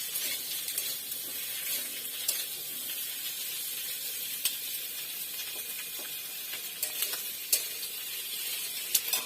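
A small batch of food fries in a pan on a gas stove turned up a little. An even, hissing sizzle runs steadily throughout, with faint scattered crackles and ticks and no talking.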